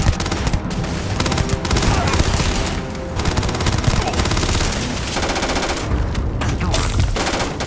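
Rapid automatic gunfire and an exploding barrel blast during a rooftop firefight with pirates in the Starfield video game, loud dense bursts continuing for several seconds with brief lulls.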